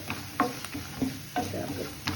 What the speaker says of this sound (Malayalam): ചെറിയ തോന്നത്തിൽ നമ്മൾ തേങ്ങാക്കൊത്ത് ചുമന്ന് കഴിയുമ്പോൾ ഇതിലേക്ക് അണ്ടിപ്പരിപ്പും കൂടി ഇട്ട് വറുത്ത്